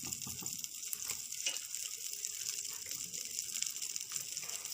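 Butter and oil sizzle in a pressure cooker on a gas stove, a steady, quiet hiss of frying that runs without a break and without voices.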